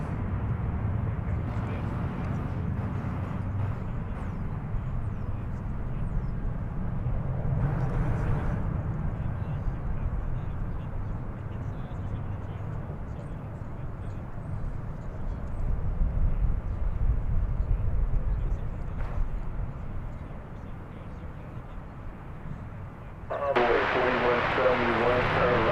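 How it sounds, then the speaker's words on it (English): A big Boeing 787 Dreamliner departing for Haneda roars at a distance, a broad, steady engine rumble that swells and fades, with someone talking over it at an airport. "So off to Haneda goes the big Dreamliner."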